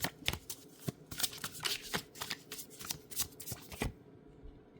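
A deck of tarot cards is shuffled by hand in quick, close riffling and slapping bursts that stop abruptly near the end, leaving silence.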